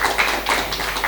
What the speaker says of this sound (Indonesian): Oke, tepuk tangan dulu dong pemirsa untuk kita semua.